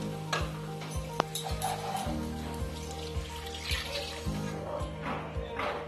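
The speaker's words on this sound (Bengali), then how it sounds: "জল দিয়ে দেব" Water poured into fried spice masala for a Bengali-style aar fish kaliya gravy, a faint steady sizzle and bubbling with a soft rhythmic ticking knock repeating about every half second throughout.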